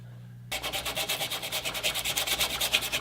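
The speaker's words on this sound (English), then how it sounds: "now what we do is sand all the blackies off here" Steady back-and-forth sanding on a wooden axe handle during restoration, a close, rhythmic rasping of paper on wood repeating quickly and evenly with no talk.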